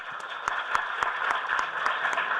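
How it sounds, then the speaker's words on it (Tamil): An audience at a Tamil film music launch event claps steadily, a dense, continuous patter of many hands with a few sharper individual claps standing out, filling the hall without talk over it. "கைதட்டுங்களேன்"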